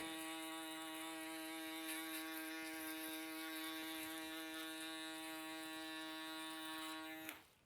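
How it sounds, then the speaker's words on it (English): Electric foil shaver buzzing steadily during a haircut, a close, constant motor drone that cuts off abruptly at the end. "Why not just do a little foil shaver real quick?"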